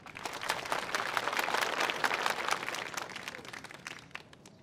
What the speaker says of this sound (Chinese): 大家掌声表示感谢